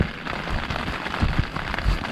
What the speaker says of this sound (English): you can't beat being under a tarp in the rain, can you?